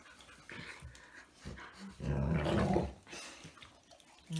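Dogo Argentino dog panting and whimpering close by, faint breathy pants broken by short whines and a louder rough burst in the middle, with light rustling at a party.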